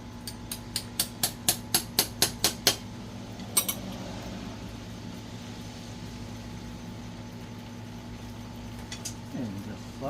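A cold chisel and small pry bar struck to split clutch parts on a 1957 Farmall 450 diesel tractor, about ten sharp metallic hammer blows in quick even rhythm, then a lone strike, followed by quiet shop hum.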